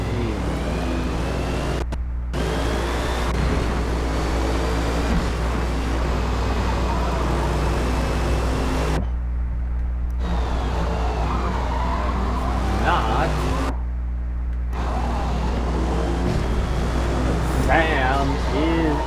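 Race cars in a multi-car endurance lobby of a racing video game, several engines droning and whining steadily throughout, with a brief cut in the engine noise and a voice talking over it.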